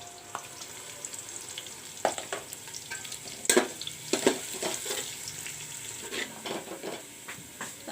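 Onions frying until brown in a pan, a close, steady sizzle broken by occasional clinks and scrapes of stirring, with no voices.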